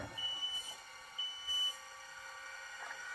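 A thin, high electronic beep sounds a few times at irregular intervals over a steady background hum.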